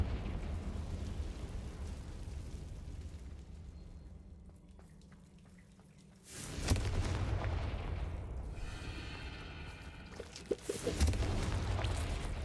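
A Confringo fire spell explodes in the Hogwarts Legacy video game, a loud sudden blast that swells into a sustained roaring rumble, followed by rattling debris and a second crackling burst near the end.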